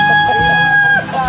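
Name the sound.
chickens and rooster crowing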